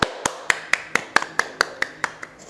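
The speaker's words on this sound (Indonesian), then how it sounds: "Tepuk tangan untuk kita semuanya." A single person's sharp hand claps in a classroom, about eleven evenly spaced claps in a quick steady rhythm, close and crisp with nothing else underneath.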